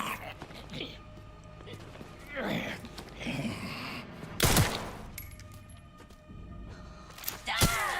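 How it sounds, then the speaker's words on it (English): A zombie bursting apart after a stealth kill in Resident Evil Requiem, heard as a sharp wet blast amid scattered impacts and game noise, with people talking throughout. "this is a stealth kill that explodes them"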